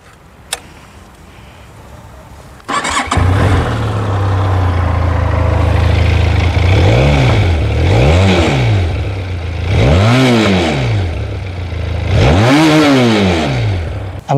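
A Benelli TRK 502 motorcycle engine starts with a click and burst, then idles loudly close by and is revved in repeated rising-and-falling blips of its exhaust, with no talk over it.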